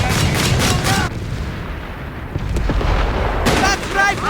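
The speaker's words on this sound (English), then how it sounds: "That's rifle fire!" Sharp bursts of rifle fire and explosions from a large Company of Heroes 3 battle, heard over music and game voices, with a loud crackling volley near the start and another near the end.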